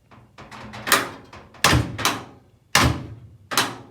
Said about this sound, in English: You can hear it where it catches with the button held.